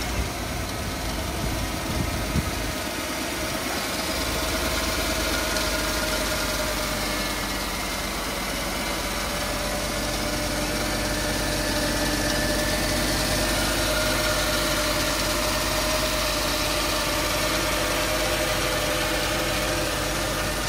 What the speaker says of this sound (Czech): poslechnout 5-litrový 8-válec